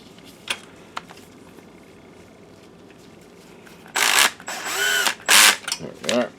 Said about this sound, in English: And I am using a power screwdriver.